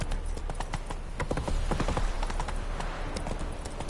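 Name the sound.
horse galloping, clip-clop hooves in The Witcher 3 video game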